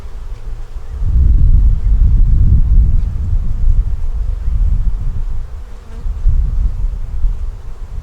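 Dense swarm of honeybees droning around an opened hive during a top-to-bottom box swap, a steady low buzz that swells loud and close, then dips briefly and rises again, with no voices.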